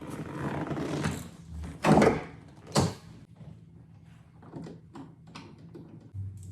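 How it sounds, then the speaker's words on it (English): A car's driver's seat is slid forward during an interior fitting job: scraping slides with two sharp mechanical clunks, then quieter rattles and handling noises. "then we're going to just pull the seat forward"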